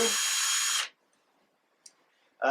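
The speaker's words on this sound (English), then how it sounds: "the further I squeeze the trigger, the faster the drill goes" A handheld power drill whirs steadily at speed for under a second, then cuts off, followed by near silence with a brief click and the start of another burst at the end.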